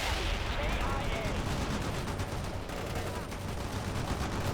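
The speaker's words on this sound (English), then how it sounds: "They're firing at me." Gunfire in the real-time strategy video game World in Conflict, a dense, continuous crackle of rapid shots and machine-gun bursts with rumbling combat noise, loud and unbroken throughout.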